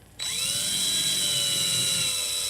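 A power drill whirs up abruptly and keeps spinning at a steady high pitch while drilling a pilot hole, loud and close, running continuously.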